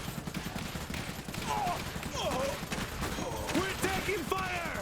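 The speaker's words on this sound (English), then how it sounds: "We're taking fire." Gunfire in the game Iron Harvest, a set in 1920: a low rumble of continuous shooting with scattered crackling bursts, moderate and somewhat distant, under spoken voices.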